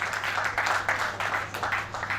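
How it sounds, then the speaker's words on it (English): Round of applause from the audience at an investiture ceremony for an ICSAN Lagos State Chapter chairman, steady dense clapping sustained throughout, moderately distant with a low hum underneath. "Please, another round of applause for him."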